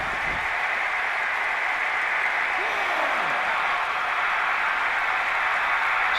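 Sustained roar and applause of a wrestling arena crowd, a dense steady wall of cheering that never drops, with a commentator's voice briefly audible over it.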